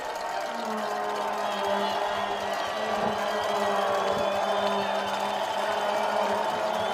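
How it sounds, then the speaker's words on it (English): A football stadium crowd at an RPI versus Union game roars steadily behind the defense on third down, a broad distant wash of cheering that never drops out. "You can hear the crowd getting behind the engineered defense"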